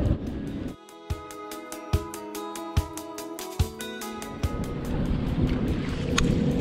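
A boat motor drones nearby at a busy river boat ramp, with a steady humming pitch and a few rhythmic thumps, then fades into a broad wash of wind and water.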